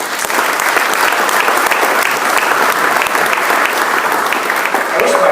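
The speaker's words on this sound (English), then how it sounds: "give him a big round of applause" Audience applause following a speaker's introduction at an agricultural summit on managing weather risk, a dense steady clapping from a sizeable crowd that holds at full strength for about five seconds without pause.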